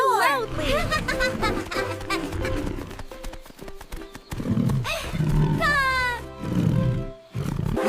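A voice growls and roars in playful bursts, imitating a dinosaur, mixed with squeaky vocal sounds and busy background noise.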